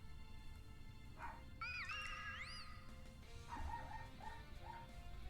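A dog barking in a house, faint distant barks and whimpering yelps scattered through a steady hum, with a rising electronic tone from a game in between.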